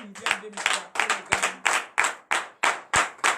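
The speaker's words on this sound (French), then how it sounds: "Je vous demande d'applaudir très fort." A church congregation at a morning prayer service in Benin claps loudly in a steady rhythm of about three firm claps per second, sharp and close, sustained without a break.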